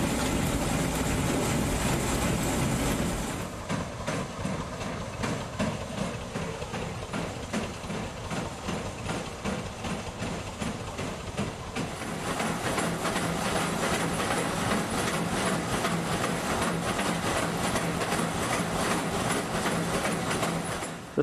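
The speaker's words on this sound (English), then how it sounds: "Our train soon approaches a junction at Melnik where services terminate." A passenger train rolls toward a junction at Melnik on a regional line, a continuous loud rumble of wheels and carriage noise throughout with rhythmic rail clatter and no talking.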